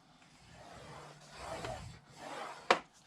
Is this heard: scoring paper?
yes